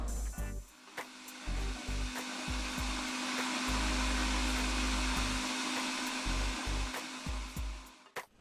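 A kitchen blender whips homemade mayonnaise as oil is added, its motor droning loud and steady from start to finish with short stuttering dips near the beginning and end.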